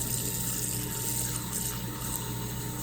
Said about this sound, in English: But I run it under some warm water.